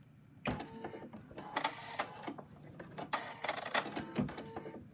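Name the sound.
embroidery machine stitching out cat applique legs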